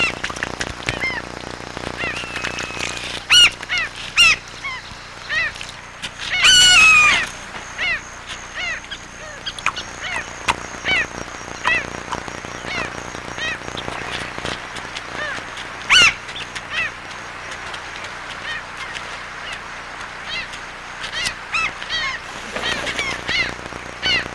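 Flock of hungry birds feeding in shallow channels of the Peruvian rainforest, goose-like honks and calls rising repeatedly over a soft background, some louder close squawks in bursts.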